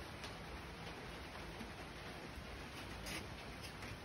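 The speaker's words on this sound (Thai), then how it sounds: "ฝนตก ในโรงเรือน โอ้แบบ สาดเข้ามาจนเปียกหมดเลย" Rain splashes steadily into a greenhouse of succulents, a dense, even hiss of falling drops with no distinct pauses, fairly faint and continuous throughout.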